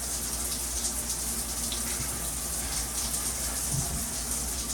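Water sprays from a shower head onto the floor of a dirty shower, a steady, dense hiss of spattering drops that keeps on unbroken, heard up close with no one speaking.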